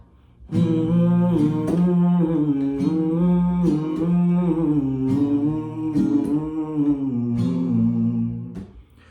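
The instrumental part of Tum Hi Ho is strummed on an acoustic guitar, with clear ringing chords that shift through a short repeating progression, played close and solo without any voice.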